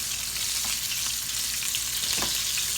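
Buttermilk-battered chicken for a spicy buffalo chicken sandwich fries in a fryer's hot oil, a constant close hiss and crackle with small popping bursts and no speech.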